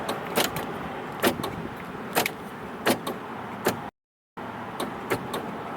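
A faulty power window mechanism in a 1977 Cadillac Seville clicks repeatedly, sharp close metallic clicks at a roughly regular rhythm about once a second, briefly cut by a gap of silence.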